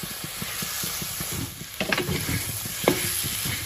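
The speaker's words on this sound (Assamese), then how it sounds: "এতিয়া আদা নহৰু দি পেলাই অকণমান সময় ভাজিব লাগিব" Ginger and garlic frying in a pan for a Nepali-style mutton curry, a steady soft sizzle with rhythmic stirring scrapes and a couple of louder clinks near the end, no voices.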